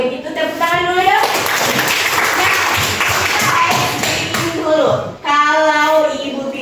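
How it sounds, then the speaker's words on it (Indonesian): Children in a classroom clap their hands together in a loud burst of applause, while a voice speaks over the start and end. "Kalau begitu tepuk tangan dulu ya"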